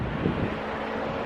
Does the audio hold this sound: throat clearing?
no